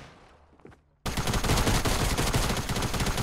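SMG gunfire in the Fortnite video game: after a second of near silence, loud sustained rapid automatic bursts fill the rest of the clip, close and dense.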